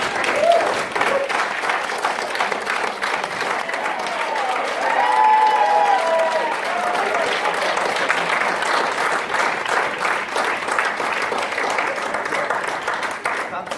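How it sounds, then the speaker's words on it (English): An audience applauds at a business event, a sustained dense clapping that swells midway and carries on steadily, with voices mixed into the crowd noise. "Can I just ask you all to give another round of applause for Karen?"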